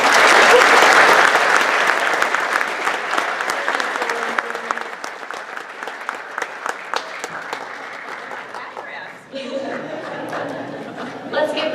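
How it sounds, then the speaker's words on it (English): An audience at an FFA banquet applauds loudly at first, then the clapping thins out and fades to a few scattered claps, with faint voices as it dies down. "Let's give them one more round of applause."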